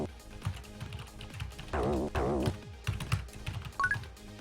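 A computer keyboard is typed on in quick, irregular bursts of clicking keys, close and fairly quiet, broken by a couple of brief, denser electronic chirps and tones.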